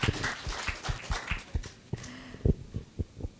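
Sparse, uneven handclaps from a small conference audience honoring a professor, individual claps picked out close and fairly quiet rather than a full ovation.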